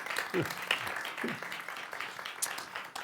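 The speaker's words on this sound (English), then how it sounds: "We will now have an applause for this gentleman" Scattered clapping from a small audience at a research talk during Stockholm Research Week, brief and fairly soft, mixed with a bit of background chatter.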